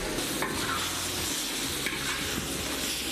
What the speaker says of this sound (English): So then we'll take the pork. You hear that nice sizzle?